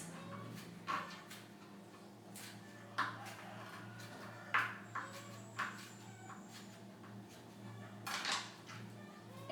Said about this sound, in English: and I'm just going to chop these